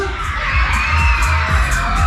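At the St. Petri fairground in Versmold, a crowd on the Rocket carousel, a ride that runs longer the louder riders are, shouts and cheers loudly and continuously, with children's yells and a few sharp bangs mixed in.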